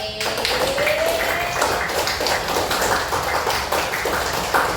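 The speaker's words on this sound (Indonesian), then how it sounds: "Sekali lagi tepuk tangan 1 menit buat kelas 2B" A classroom of young pupils from class 2B claps together at the end of a lesson, an uneven busy patter of small hands with some scattered tapping and brief tonal noises.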